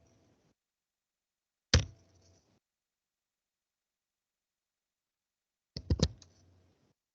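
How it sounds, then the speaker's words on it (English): Computer keyboard keys clack in two short bursts on a Linux machine, a single sharp keystroke cluster first, then a quicker run of several presses a few seconds later, close and isolated in silence. "Type power off."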